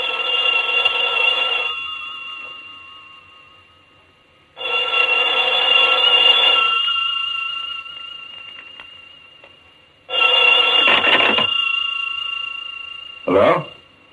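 An old-fashioned telephone bell rings loudly indoors in three long bursts separated by pauses, each ring a sustained electric trill, followed by a brief clatter as the receiver is lifted.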